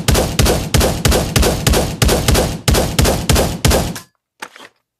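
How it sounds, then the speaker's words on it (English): Single-fire gunshots from an SMG in the VR shooter Pavlov ring out in a steady run of about eleven loud, evenly spaced shots, each fired with its own trigger pull. The shots stop abruptly, followed by a brief soft mechanical clack. "you're firing one round per trigger pull"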